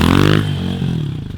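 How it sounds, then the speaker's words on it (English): A pit bike engine revs loudly at a motocross track, with a rough, buzzing note that peaks early and then holds lower and steadier, close to the recorder. "Now he's revving the pit bike track."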